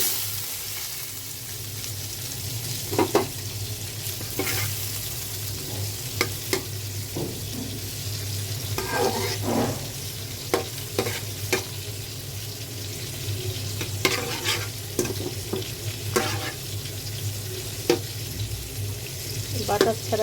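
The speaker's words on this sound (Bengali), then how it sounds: "এটা বাটারটা দিলে ফ্লেভারটা ভালো আসে, সেই জন্য বাটার দিয়ে রান্না করব।" Butter-based stir-frying for fried rice, with a steady frying hiss under sharp utensil scrapes and clinks against the pan repeating irregularly throughout, close and moderately loud.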